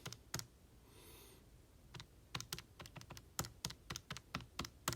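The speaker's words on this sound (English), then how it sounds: "Let's just type them first." Rapid, uneven keystrokes on a computer keyboard, sharp close clicks in bursts with a short pause near the start, faint overall and with no talking.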